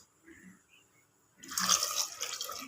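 Water poured into a pressure cooker holding measured toor dal lentils, starting faint and then a close, rushing splash of liquid that runs for the second half.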